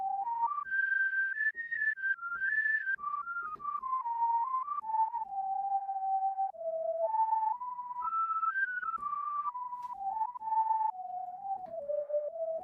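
A Tangotron Whistle Wide patch on the GForce M-Tron Pro IV plays a pure, whistle-like melody that glides up and down between sustained notes, clean and steady, with no voices over it.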